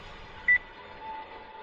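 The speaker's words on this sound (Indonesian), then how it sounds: "Suara bip dari mana ini?" A single short electronic beep, brief and clear, over a faint hiss.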